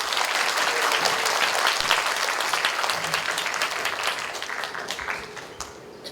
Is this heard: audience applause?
yes